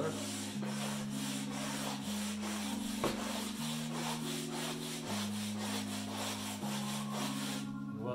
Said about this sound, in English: So we'll get the nylon brush here first.